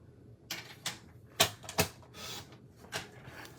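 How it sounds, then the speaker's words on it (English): Forest Friends designer series paper being cut at the 3-inch mark, heard as a few short, crisp slicing and rustling bursts spread over a few seconds, close and fairly quiet, with no talking. "we're going to go here, and we're going to cut it at 3 inches again."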